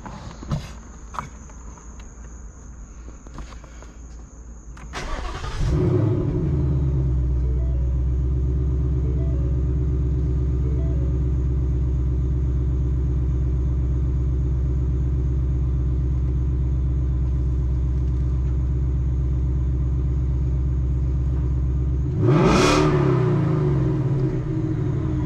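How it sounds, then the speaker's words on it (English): A 2021 Ford Mustang GT with a JLT cold air intake cranks and fires up, its V8 settling into a loud, steady deep idle, then giving a short rev near the end. "shall we do a first start with the JLT Cold Air Intake?"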